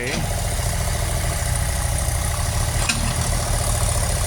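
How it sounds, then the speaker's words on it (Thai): A tractor engine idling with a steady low rumble and vibration, running continuously at close range with no break. "ตอนนี้เป็นงาน เป็นงานรถไถนะครับพี่น้อง เป็นงานรถไถ"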